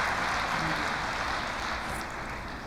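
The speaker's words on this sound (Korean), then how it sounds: "拍手をお願いいたします" An audience at a summit assembly in Nepal claps in a dense, steady wash of applause that slowly fades toward the end, with no voices over it.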